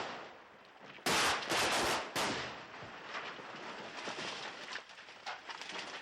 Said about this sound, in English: A cannon will be fired by Lynch toward the house, and the powerful explosives will be simultaneously detonated